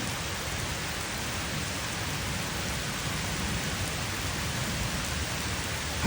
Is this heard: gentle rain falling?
yes